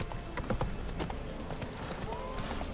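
Roach, the horse in the video game Witcher 3, runs with steady rhythmic hoofbeats clopping at moderate volume over a constant ambient game background.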